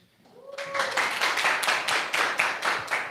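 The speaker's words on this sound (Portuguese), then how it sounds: "Então receba com a salva de palmas esse homem de Deus." Applause from a church congregation, a brief clear tone then a burst of steady rhythmic clapping that continues at moderate volume.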